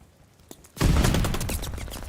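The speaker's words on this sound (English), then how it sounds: "shots ring on out" Rapid burst of gunfire breaking out in an esports video game match during a contested objective fight, a dense loud volley that starts abruptly after a faint lead-in shot.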